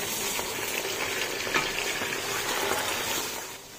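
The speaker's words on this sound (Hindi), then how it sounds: "चिकन डालकर हमें अच्छी तरह से इसको भूनना है 3 से 4 मिनट तक।" Chicken pieces fry with onions in a pot for masala biryani, giving a loud, steady sizzle with stirring scrapes throughout and no talk.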